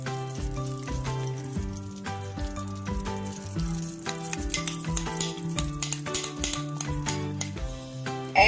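Ghee heats and sizzles in a pressure cooker while beef biryani is being made, a steady frying crackle running through the whole stretch beneath prominent tonal background music.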